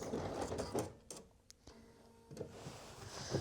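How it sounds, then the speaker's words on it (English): A sewing machine stitches and backstitches a skirt seam with quick rhythmic mechanical ticking and whirring, close but quiet, broken by short pauses with no talking. "I'm just going to sew over that original line, I don't know, 1/2 inch or so, and then backstitch again."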